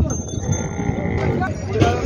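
Oxen and cattle at a busy open-air cattle market low bellows and lowing rise from the livestock amid a dense, continuous crowd din with a bell-like ring, no clear speech over the top.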